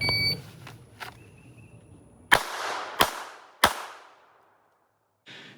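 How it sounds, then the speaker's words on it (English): Handgun drawn from a holster and fired one-handed, three sharp loud shots about a second apart, each with a ringing tail, after a faint electronic beep and some rustling. "strong hand only, draw and fire 3 rounds"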